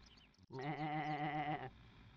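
A single cartoonish sheep in the Looney Tunes: Sheep Raider game lets out one clear, wavering bleat of about a second, close and distinct over a quiet background.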